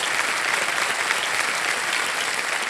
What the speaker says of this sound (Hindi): बहुत बहुत स्वागत तालियां बज जाए इनके लिए।